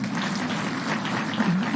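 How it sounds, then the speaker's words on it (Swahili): An audience applauds members of a county assembly at a public gathering, a steady wash of clapping that holds for the whole moment and swells slightly at the end. "tuwapigie makofi"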